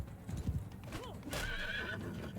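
Horse in Mount & Blade II: Bannerlord: a few quick hoof clip-clops near the start, then a loud, close whinny rising and falling over the rest, with no one talking.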